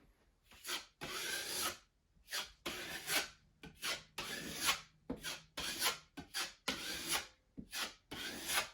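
Drywall compound is scraped and spread over a wall patch for a second coat in repeated rasping strokes, each a short burst separated by brief pauses, close and clear.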